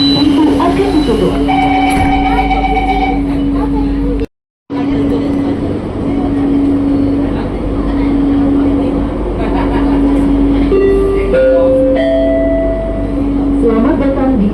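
Interior of a Jabodebek LRT light rail train on the Cibubur Line running between stations, a steady rolling hum with motor whine rising in steps, interrupted briefly, under announcements and people talking.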